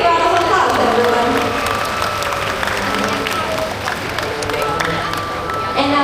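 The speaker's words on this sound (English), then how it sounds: "Let's all give Latif a big round of applause" An audience at a live bird show applauds together for a volunteer on stage, a steady wash of clapping with some cheering over music or background noise.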